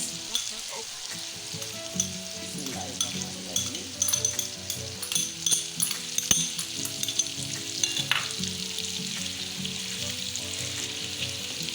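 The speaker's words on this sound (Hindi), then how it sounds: "आलू हमारे फ्राई हो रहे हैं। अब हम इसमें डालेंगे प्याज।" Potatoes and onions frying in a pan for a Spanish omelette, a loud, steady close-up sizzle dotted with crackles and stirring knocks throughout.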